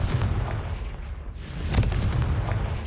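A spell blast goes off in the Hogwarts Legacy video game, a loud booming explosion with a sharp crack midway, over a steady rumbling wash of noise.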